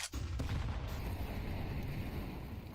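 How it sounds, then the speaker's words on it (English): A grenade detonates in a Counter-Strike match, a sharp burst at the start giving way to a loud, rumbling boom that lingers and fades slowly, with no talk over it. "Nice nade there."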